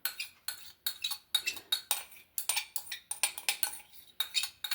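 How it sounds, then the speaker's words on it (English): A metal spoon scrapes out a container of dressing in a home kitchen, giving a quick series of close, sharp clinking strokes in an irregular, steady rhythm with no talk. "Let me just get a spoon. Just want to make sure that I get everything out."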